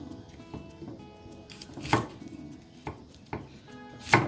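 A knife chops through eggplant on a board, a handful of sharp, irregular thuds, close and fairly loud.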